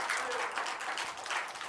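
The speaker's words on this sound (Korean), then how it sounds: "우리 참 좋으신 하나님께 영광과 찬양의 박수 올립시다" Congregation applauding during a Friday evening church service, a steady wash of clapping that fills the whole moment without pause.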